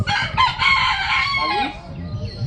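A chicken at a zoo crows loudly up close in one drawn-out call, followed by softer clucking.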